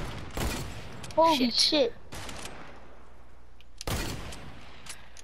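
Heavy sniper rifle shots in Fortnite: two sharp, loud cracks several seconds apart, each with a short tail, separated by a man's brief excited exclamation.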